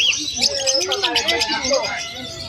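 Local budgerigars, a cock and hen, chirp and twitter busily at a bird shop in quick, overlapping tweets, close and fairly loud, under ongoing talk.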